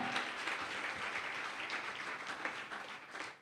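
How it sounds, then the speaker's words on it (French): A church congregation applauds together, a steady dense wash of clapping holding for several seconds with no break, loud and close around the listener. "Acclamons encore, acclamons. Acclamons fort, bien-aimés, acclamons."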